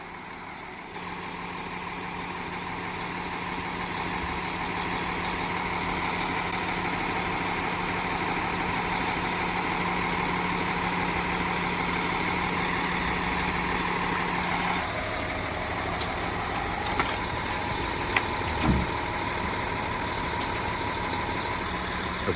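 A grab lorry's diesel engine idles steadily with the crane hydraulics running, a constant low drone and whine, then a brief pitch shift as a lever switches the hydraulics over, with small clicks near the end.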